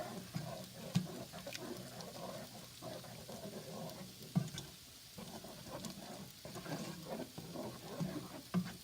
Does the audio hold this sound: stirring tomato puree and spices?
yes